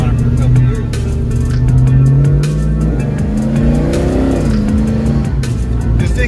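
A big Chevrolet S10 pickup truck with a swapped-in LS V8 engine rumbles and revs loudly nearby, pitch rising and falling, with a voice faintly heard under the roar.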